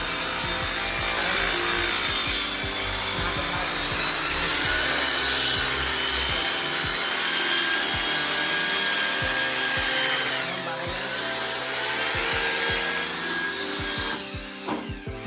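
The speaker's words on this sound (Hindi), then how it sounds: "यहाँ पे छेद मारेंगे हम यहाँ पर दीवार में" A power drill bores a hole through a wall for a broadband cable installation, a loud, close, continuous whine with grinding and rattling that holds for the whole stretch and eases slightly near the end.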